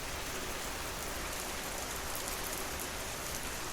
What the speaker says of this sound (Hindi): खानापुर गांव में बहुत तेज बारिश हो रही थी।